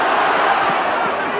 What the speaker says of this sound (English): Leeds crowd not happy about it.